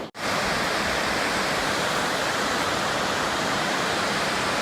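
Water rushing over the Marsden Diversion Dam in Waterton Canyon, Colorado, as a loud, steady broadband roar that begins abruptly and continues unbroken.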